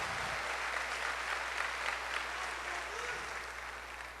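Church congregation applauding during a Portuguese-language sermon, a steady dense wash of clapping throughout with a low hum underneath.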